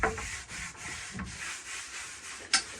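Sandpaper rubbing over a 1950s Slingerland Legion Heir snare drum shell, a close, continuous scratchy scrubbing in uneven back-and-forth strokes, with a sharper scrape near the end; no talking.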